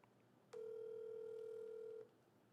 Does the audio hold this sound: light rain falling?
no